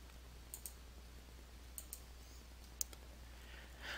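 A computer mouse clicks a few times while navigating QuickBooks accounting software, the short, faint clicks spaced irregularly over a quiet background hum.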